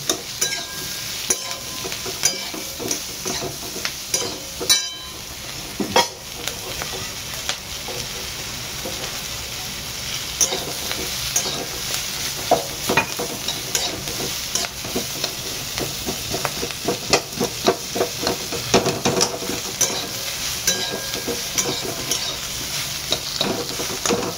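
Onions fry for a paneer mushroom masala, hissing continuously while a utensil stirs and scrapes through them in irregular bursts, close and fairly loud for a long stretch.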